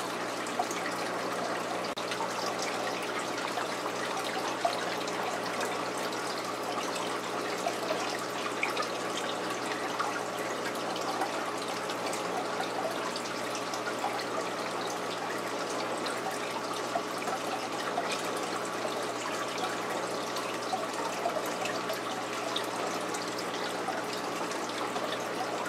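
Water poured vigorously through a PVC pipe into an aquarium, a steady continuous gush and trickle that holds an even level throughout with no talking.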